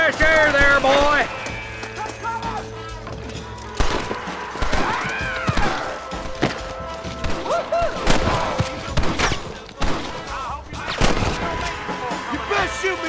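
Gunfire in Red Dead Redemption, scattered shots and bursts mixed with galloping horse hooves and shouting voices, a busy, loud game shootout.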